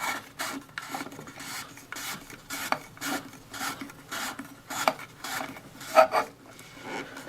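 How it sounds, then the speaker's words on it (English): Repeated short rasping twists as a plastic valve cap is hand-tightened over its screen, about a dozen scratchy turns in an uneven rhythm, close and fairly quiet, with no talking. "Place the cap back on and just hand tighten it."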